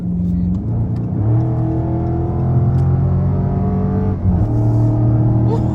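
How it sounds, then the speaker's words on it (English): A Dodge Charger Scat Pack widebody's 392 V8 engine revs up on a night drive, its deep rumble climbing in pitch through the gears, then dropping and rising again, loud and close. "That's that V8, that 392"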